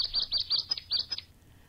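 Chick chirping in a quick series of high, thin peeps, about eight in a row over a second, close and alone before falling silent.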